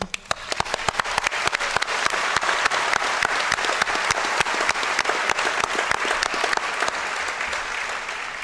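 Audience at a nursing pinning ceremony breaking into sustained applause, many hands clapping in a dense, even patter that carries on strongly for several seconds with no talk over it.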